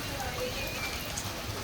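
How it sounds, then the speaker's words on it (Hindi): Heavy rain falls steadily across a college campus near the cafeteria, a continuous broadband hiss at moderate level with no break through the short stretch. "यहाँ पे बहुत बारिश चल रही है फिलहाल तो"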